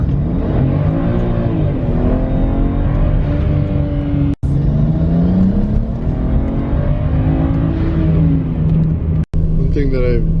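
A 2008 BMW E90 335i pulls hard under acceleration, its engine note climbing steadily in pitch through repeated gear changes. The sound is loud and close, with brief breaks between the pulls.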